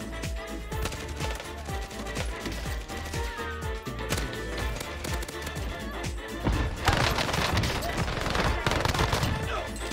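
Dense, rapid gunfire from a video game plays as continuous overlapping bursts under excited talk, getting louder and busier toward the end.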